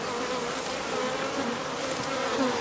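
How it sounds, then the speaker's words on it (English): Defensive honeybees buzz in a dense, steady swarm at an open hive while a new queen is being introduced, a continuous close drone with no voices. "these are really antsy bees"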